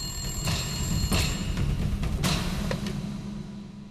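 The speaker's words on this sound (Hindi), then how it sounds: "कितनी देर से फोन बज रहा है" A telephone bell rings in repeated bursts, fairly close, over a low background hum.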